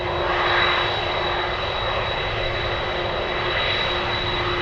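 An Atlas Boeing 747 freighter with CF6-80 engines sits at idle, a loud continuous jet roar carrying a clear, steady high-pitched whistle and a lower tonal hum, close by and uninterrupted.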